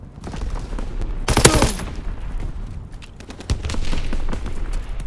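Rapid bursts of Call of Duty WWII gunfire ring out close and loud, peaking in a sharp volley early on, then continuing as steady battlefield shooting with scattered shots and background combat noise.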